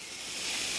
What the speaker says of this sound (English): we're going to put these burgers on, and you want to listen for that sizzle